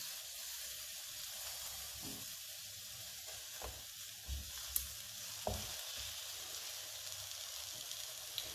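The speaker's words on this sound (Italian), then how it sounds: "Ho messo sul gas una padella, ora è ben calda e comincio a cuocere le melanzane" Eggplant slices frying in a hot pan give a steady, soft broadband sizzle throughout, with a few brief louder pops and clicks scattered along the way and no talking.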